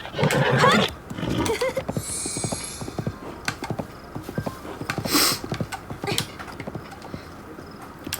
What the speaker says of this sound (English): That is how you tame a horse